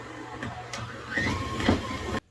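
A stand mixer kneading hamburger bun dough, giving a steady close motor whir and hum with some rising strain, cut off abruptly at the end.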